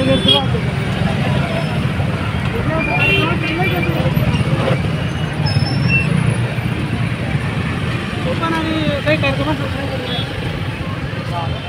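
Dense traffic near a crowded cinema hall, a steady loud roar of engines and road noise with crowd babble and people talking throughout.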